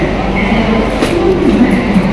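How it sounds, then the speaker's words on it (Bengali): The Howrah–Bikaner Express pulling away from platform 9 at Howrah station, a close, loud low rumble of the moving train running steadily throughout, with no speech. "ট্রেন ছাড়লো হাওড়া থেকে 9 নম্বর প্ল্যাটফর্ম থেকে"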